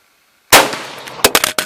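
A Czech Vz24 Mauser bolt-action rifle fires one loud, sharp shot outdoors after a moment of silence, its report trailing off, followed by several quick mechanical clacks and knocks close by.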